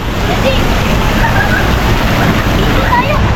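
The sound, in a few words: water park tipping bucket dumping water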